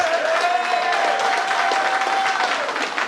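A live audience at a wrestling podcast show in Glasgow breaks into a loud, dense round of applause, close and continuous for a few seconds, with a faint steady tone running underneath.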